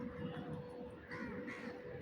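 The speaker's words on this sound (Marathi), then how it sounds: "आज कावळे तर जास्त दिसत आहेत तिथं." Several crows caw faintly and steadily outdoors near a truck-engine factory, their calls blending into a constant background wash without speech.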